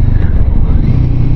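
Royal Enfield Guerrilla 450 motorcycle engine pulling under acceleration, a loud close-up throbbing low drone with steady pulsing exhaust rumble and wind buffeting, continuous for a short burst.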